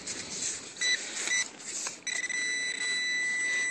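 Garrett AT Pro metal detector sounding over a piece of metal in an Oregon park, electronic tones that stutter in short bursts at first and then settle into a sustained steady beep.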